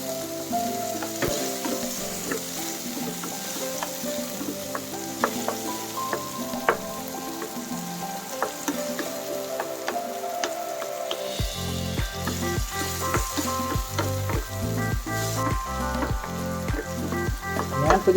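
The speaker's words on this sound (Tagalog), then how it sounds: "lulutuin lang natin masyado yung ating kamatis. Para magkaroon siya ng kulay." Tomatoes fry in a pan with a continuous soft sizzle, joined by clattering stirs and scrapes, with a rhythmic tapping knock in the second half.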